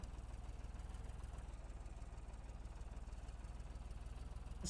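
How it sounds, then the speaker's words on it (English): A car engine idles in the Roblox-style survival game Apocalypse Rising, a steady low, pulsing rumble with a faint rattling vibration that holds evenly and fairly quietly throughout, with no talking. "I just heard another car start."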